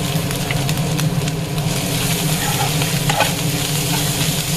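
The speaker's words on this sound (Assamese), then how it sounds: "এয়া মোৰ মাছখিনি মচমচীয়াকৈ ভাজা হৈ গৈছে।" Small fish fry crisp in a pan with onion, giving a continuous loud sizzle and crackle with occasional stirring scrapes and no voices.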